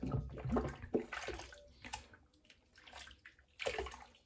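Water runs from a tap as an item is rinsed, with splashing and sloshing bursts that come and go close by, rising and falling in a few uneven surges.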